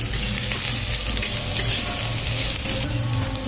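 Chopped onions fry in hot oil while being browned for a chicken curry, giving a dense, steady sizzle that runs loud and unbroken with no talk.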